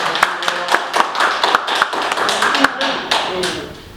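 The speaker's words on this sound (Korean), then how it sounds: "우리 모두 하나하면서 박수 한번 치겠습니다" Audience clapping in unison at a Korean business club lecture on symbiotic farming, sharp rhythmic claps roughly every quarter second over a dense room wash, with talk mixed in and fading toward the end.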